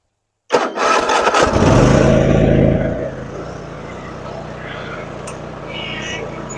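An engine on a machine just fitted with a new clutch cranks and fires up after a brief silence, roars loudly for a few seconds, then settles into a steady, quieter idle.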